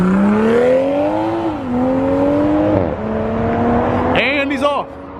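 A Toyota Supra accelerates away from a cars-and-coffee meet, its engine climbing through the gears with rising pitch and sharp shift breaks, loud and near, then fading with a few chirps as people talk nearby.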